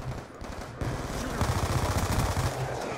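Rapid gunfire from a Black Ops 2 multiplayer match on PC, a steady rattle of repeated shots running loud through most of the stretch with a brief lull near the start.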